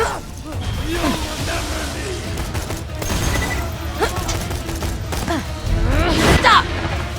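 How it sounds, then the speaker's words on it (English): A grenade explodes in the Borderlands 2 video game, one of several bursts of gunfire and booms layered over dense battle noise and continuous loud action sounds. "Grenade out!"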